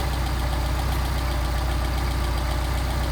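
An engine with a freshly rebuilt Solex carburetor idles steadily, a constant low rumbling drone with a fine regular pulse and no change in pace, close and loud with no talk.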